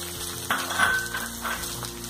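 Cabbage, carrot and beans tipped into a hot pan for shavige uppittu, a soft sizzle rising with a clink of the utensil, close and fairly quiet under a background hum.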